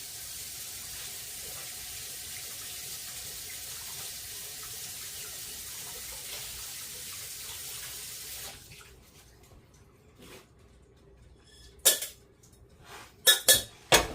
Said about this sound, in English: I'm going to rinse this in cool water.